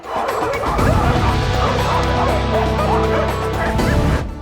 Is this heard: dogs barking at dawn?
yes